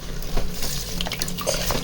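Water splashes steadily as it is poured over a bunch of cut roses to soak them, a close, continuous liquid rush with small clinks and drips.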